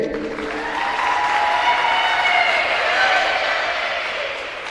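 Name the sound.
audience applause for volleyball senior at ceremony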